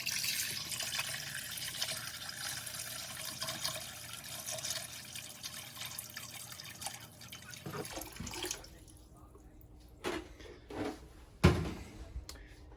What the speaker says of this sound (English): use the existing gallon jug that you just filled up, and we fill this up 1 gallon